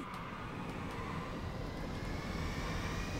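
Steady droning airplane engine in Grand Theft Auto V, a constant hum with a faint whine, moderately distant and unbroken throughout with no talk.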